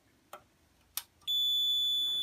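A Chubb fire alarm control panel is tested: two sharp clicks, then a steady high-pitched electronic tone starts and holds loudly without a break.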